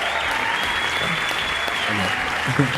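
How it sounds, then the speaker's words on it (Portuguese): Studio audience applause welcoming a guest onto a talk show, sustained dense clapping throughout at even loudness, with faint speech surfacing near the end. "Recebam com um forte aplauso"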